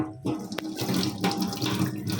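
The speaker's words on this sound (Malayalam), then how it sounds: "ഇനി നമുക്ക് വെള്ളം ഒഴിച്ചൊന്ന് കഴുകി നോക്കാം" Water streams from a tap over a steel tea strainer being rinsed at a sink, a continuous close splashing gush after a brief quiet start.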